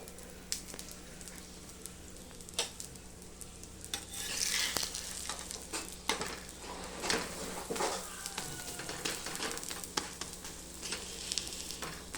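Aloo paratha cooks in an oiled pan over low heat, giving a soft steady sizzle with light crackles and a few sharp clicks of the utensil, quiet and close.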